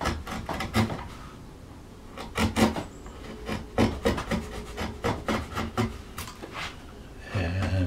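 Leather floral panel being beveled with a number 5 bevel tool, a series of sharp tapping strikes in uneven clusters, close and fairly quiet with no voices.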